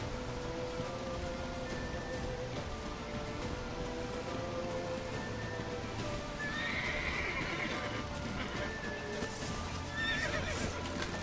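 In The Witcher 3: Wild Hunt, horse hooves clip-clop steadily under a wash of rain-like noise, then a horse whinnies, with a brief high neigh near the end.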